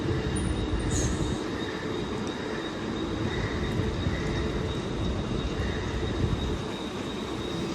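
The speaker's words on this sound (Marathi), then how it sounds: "चला जाऊया या ट्रेनमध्ये आता बसू" Continuous low rumble and rattle of a moving passenger train, steady and loud throughout, with a brief high squeal early on.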